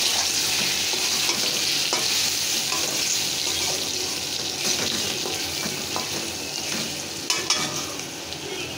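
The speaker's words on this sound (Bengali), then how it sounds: "ভালোভাবে একটু কষিয়ে নেব" Potatoes with ginger and garlic paste and mixed spices sizzle steadily in a pan while being stirred, a continuous loud frying hiss broken by scraping stirs and occasional clinks, with no talking.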